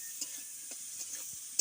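Bitter gourd frying in oil with raw onion, green chili, turmeric and salt, giving a constant close sizzle punctuated by several light taps and scrapes of a spatula stirring in the pan.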